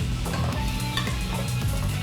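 Garlic and butter fry in hot oil, stirred with a wooden spatula: a dense, constant sizzle with soft scraping strokes, loud and close, no voices.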